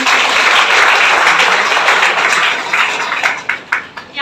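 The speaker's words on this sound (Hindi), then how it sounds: "ऐसे हमारे ATC leader mister Raju sir के लिए एक बार जोरदार तालियां होनी चाहिए" An audience at a business gathering gives loud, dense applause for an ATC leader, a continuous wash of many hands clapping close by that thins and turns patchier toward the end.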